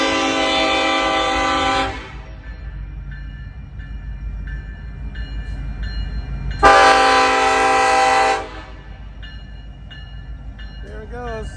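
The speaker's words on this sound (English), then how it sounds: "It's going to get loud here in a second because this train's coming." A train passes close by, its horn blaring in two long loud blasts separated by a rumbling pause, with steady rail noise underneath; a voice speaks briefly near the end.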